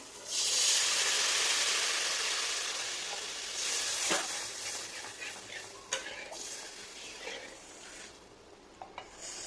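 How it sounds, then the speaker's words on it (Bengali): Water poured into a pan of hot fried masala for a rohu fish curry: a loud burst of hissing steam that slowly fades, with a few sharp clanks of a spoon against the pan. "জলটা দিয়ে দিচ্ছি"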